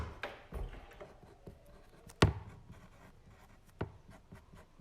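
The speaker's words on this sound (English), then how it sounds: "I'm going to write my name where it says name on my 4th sheet of paper." A pencil writing a name on a sheet of paper, close scratchy strokes in short irregular bursts with a few sharper taps between quieter rubbing.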